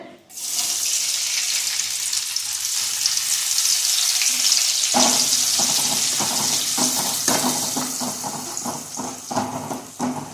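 Garlic and chili hit hot oil in a kadai with a sudden loud sizzle that holds steady and close, then turns crackly and choppy as a spoon stirs in quick strokes.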